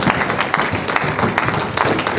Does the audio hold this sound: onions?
no